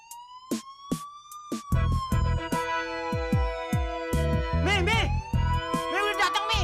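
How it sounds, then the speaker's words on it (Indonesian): A police siren wails and warbles loudly throughout, with rising and falling tones and sharp percussive hits beneath it. "Pakai sirene lagi tuh."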